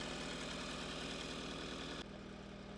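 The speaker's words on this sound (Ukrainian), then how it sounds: "Мотор зараз працює, працює на підвищених оборотах при мінусовій температурі" A Toyota RAV4 diesel engine idles at a steady, fairly high rev in sub-zero temperatures, with a continuous low rumble; the tone drops and quiets slightly near the end.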